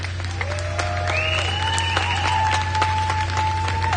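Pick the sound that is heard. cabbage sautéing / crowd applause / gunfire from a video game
crowd applause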